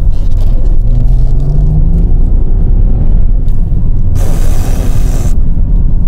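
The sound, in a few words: Mercedes car driving off into traffic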